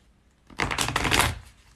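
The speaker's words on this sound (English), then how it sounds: "Shuffle the cards a little bit and clear the energy from the previous reading." Tarot cards riffle-shuffled up close in one quick burst of rapid crisp flutters lasting under a second, with quiet before and after.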